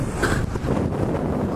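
Strong wind buffets the microphone outdoors with a steady, loud roar and rumble that covers the whole moment, while a voice speaks under it.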